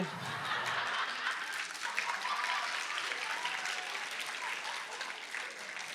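A crowd claps steadily for several seconds, a dense, even wash of applause from an audience, loud and sustained throughout.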